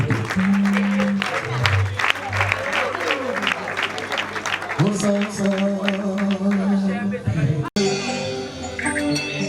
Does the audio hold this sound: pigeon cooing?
no